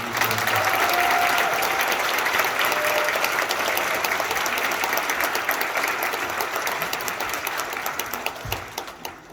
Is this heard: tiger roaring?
no